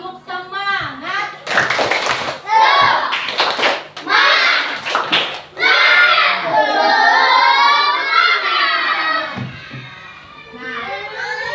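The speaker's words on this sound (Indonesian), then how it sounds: "Tepuk semangat." Schoolchildren in a classroom chant and clap a rhythmic spirit clap together, loud and close, with bursts of hand claps mixed into their shouted voices.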